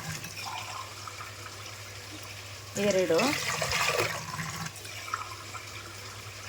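Water poured from a glass into a pot for pulao made with jeera rice, a short, close splashing gush lasting about two seconds, with someone speaking before and after it.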